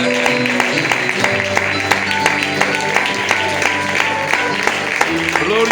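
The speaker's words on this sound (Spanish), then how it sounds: "Dame un aplauso al Señor." A church congregation claps in a steady rhythm along with loud music during a Spanish-language service, the claps forming an even beat throughout.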